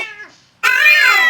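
Cartoon cats meow: a short, thin mew fades out, then a loud, drawn-out nasal meow follows after a brief pause.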